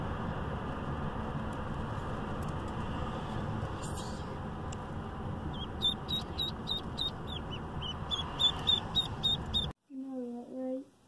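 Baby ducks peep in short, high bursts, faint at first over a steady background hiss, then clearer and closer in a brief quieter stretch at the end.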